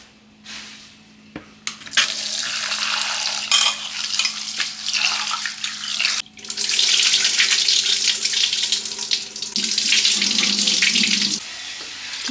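Water runs from a tap into soaking rice, splashing and gurgling in a few bursts with brief pauses and stirring between them.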